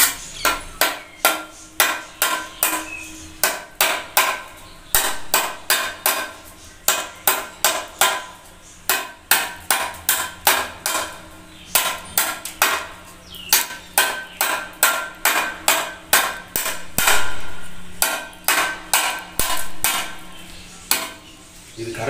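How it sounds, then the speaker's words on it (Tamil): A steel trowel chops and trims a brick during wall building, sharp metallic strikes repeating steadily in quick clusters, loud and close with no talking. "இது கரண்டி, ஸ்டீல் கரண்டி, அதனால இவ்வளவு வெட்டு."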